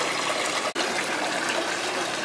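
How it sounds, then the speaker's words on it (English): A creek runs through a museum floor, its flowing water a steady, close rush that fills the space, broken once by a brief dropout. "Here is a creek,"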